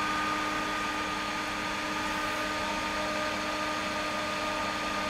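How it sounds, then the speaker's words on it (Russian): ERA 4S ET bathroom exhaust fan with timer running steadily, a continuous broadband whir with a faint tonal hum, constant in level throughout with no speech. "Вентилятор заработал."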